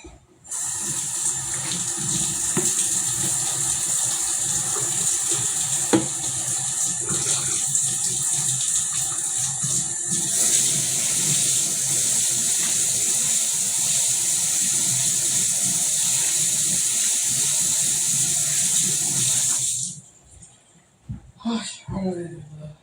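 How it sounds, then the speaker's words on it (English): Water runs steadily from a tap as hands are washed beneath it, a continuous close rushing flow that stops near the end, followed by a few small clatters and quiet handling sounds. "Wash my hands again."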